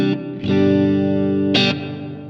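Electric guitar chords ring through a VOX AC30 amPlug 2 headphone amp set to its hall reverb, three strummed chords with a short, quick reverb tail fading after each.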